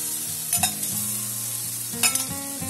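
Chutney goes into a sizzling spice mixture for a Bengali katla fish dish and gets stirred. Constant frying hiss is broken by two sharp clatters of a utensil against the pan.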